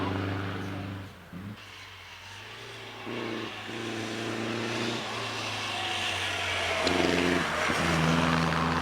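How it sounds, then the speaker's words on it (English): A vintage racing special with a supercharged 1500cc engine runs at a Vintage Sports-Car Club meeting at Prescott, its steady, droning engine note rising and falling close by under continuous commentary. "This is the one with the 1500cc supercharged engine"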